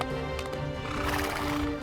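A horse neighs while its hooves clip-clop steadily throughout a short, continuous stretch of sound, moderately close.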